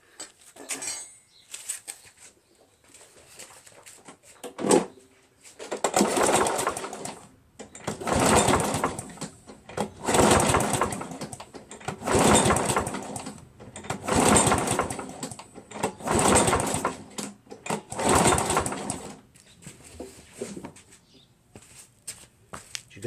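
A Craftsman 7 HP lawn mower engine with a rough-running, hard-to-start fault pulls and sputters in repeated surging bursts. About seven loud rising-and-falling pulses come a couple of seconds apart, with clattery, uneven firing in between.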